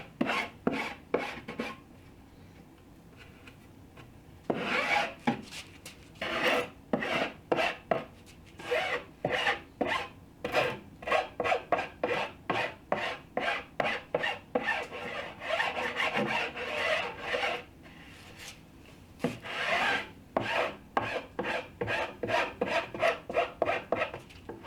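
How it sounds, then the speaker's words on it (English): A hand rasp files the sides of a wooden entry bench to a bevel in quick, steady rasping strokes, with a few pauses between bursts, close and alone with no talk. "just use a rasp to cut the sides to a 5-degree bevel"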